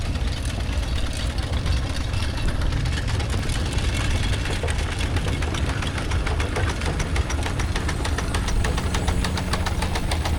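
Steam traction engine running around the arena at the Laughton Autumn fair, a steady loud chugging, knocking engine rumble that continues without a break.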